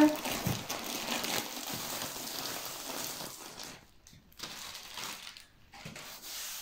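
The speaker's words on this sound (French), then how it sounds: "on va déballer ça ensemble" A Diamond Art Club diamond painting kit package is unwrapped nearby, with crinkling plastic, rustling and small clicks of handling, broken by brief pauses.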